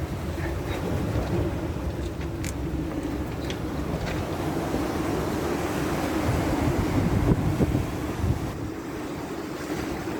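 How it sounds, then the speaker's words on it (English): Steady rushing ocean surf on the Great Ocean Road fills the background, mixed with gusts of wind buffeting the microphone, continuous and fairly loud with no talking. "I can hear that ocean getting closer."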